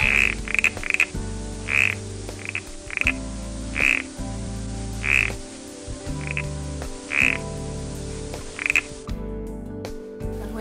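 Frogs croak loudly and repeatedly in an irregular sequence of short calls over a low, droning chorus that never stops.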